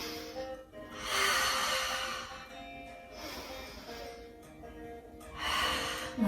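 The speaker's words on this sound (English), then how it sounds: "Very expansive breath." Deep, expansive breathing during Pilates arm circles, with slow, airy inhales and exhales rising and falling in long waves, close and soft, no talking.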